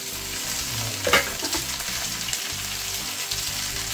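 Sausage fries in a hot skillet with a steady, close sizzle and a brief clatter as the pieces are turned partway through.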